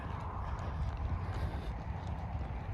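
Horse hooves clip-clop steadily along a trail at Hidden Mesa open space in Douglas County, Colorado, with a continuous rhythmic patter close to the microphone under light wind noise.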